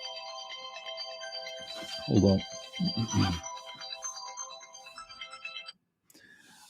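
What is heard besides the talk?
phone alarm ringing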